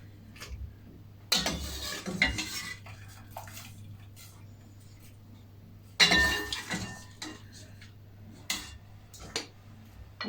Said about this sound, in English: And then I'm going to stir it